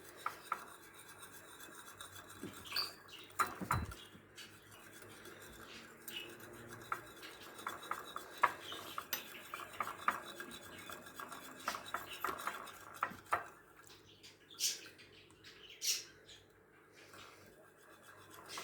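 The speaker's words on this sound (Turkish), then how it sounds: "6 yemek kaşığı pudra şekerimi de karıştıra karıştıra ilave edeceğim." A spoon stirs powdered sugar into lemon juice for a lemon cake sauce, making quiet, rhythmic scraping and clinking against the bowl with occasional sharper taps.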